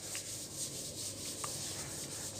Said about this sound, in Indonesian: dan ini dari proses pengamplasan ya